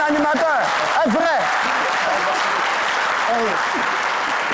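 A TV show studio audience breaks into sustained, dense applause that fills the whole stretch, with an excited host's voice calling out over it at the start and again near the end.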